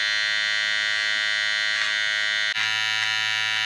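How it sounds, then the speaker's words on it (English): A Wahl trimmer with no attachment buzzes loudly and continuously close by while trimming a mustache, its steady electric hum briefly dipping and changing tone partway through. "You're going to use a Wahl trimmer with no attachment."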